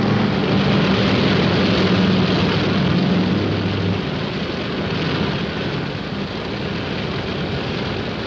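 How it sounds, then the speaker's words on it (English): A military helicopter on ditch patrol drones steadily in the background over a loud, continuous broadband roar from a carrier deck or open air, with a low rotor hum audible near the start. "That helicopter in the background is ditch patrol."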